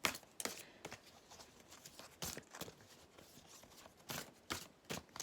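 Oracle cards shuffled for a tarot reading: close, brisk papery riffles and slaps coming in irregular bursts, fairly loud, with no speech.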